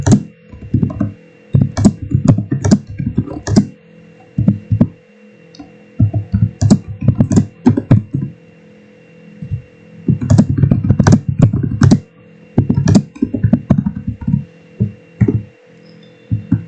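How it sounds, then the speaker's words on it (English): Typing on a computer keyboard: bursts of loud, close clicking keystrokes in quick irregular runs, broken by short pauses, with no voices. "you guys can hear all my typing"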